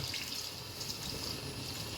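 Water being poured into a pan of meat curry makes a faint, continuous splashing and running sound that lasts the whole moment.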